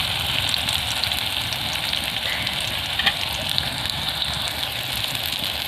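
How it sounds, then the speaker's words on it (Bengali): Sesame fritters wrapped in ash gourd leaves frying in hot oil make a dense, steady crackling sizzle close up, continuous for the whole stretch with a faint pop near the middle. "এইভাবে আমি আরেকটু ভেজে নেব"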